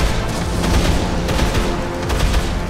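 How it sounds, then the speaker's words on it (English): Continuous rapid machine gun fire in the game Dead Island Riptide, loud and close, dense overlapping shots with no pauses. "Good news is you get a machine gun."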